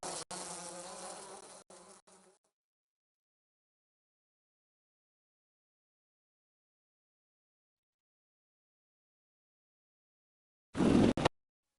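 Bees from a Winnie the Pooh computer game buzz steadily for about two seconds, then fall silent, followed by a short, louder burst of game sound near the end.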